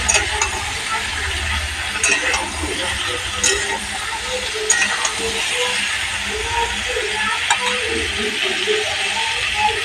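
Potatoes fry in oil tempered with cumin and bay leaf as pumpkin and tomato go in, a steady bright hiss and crackle that carries on across ten seconds with occasional louder pops, close and fairly loud.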